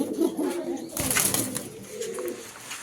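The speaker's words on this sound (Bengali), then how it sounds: "দর্শক এ পর্যায়ে আমরা দেখতে পাচ্ছি একটা সাদা ফিলব্যাক কবুতর নর" White fillback pigeons cooing close by in low, throaty bursts, with some faint rustling between calls.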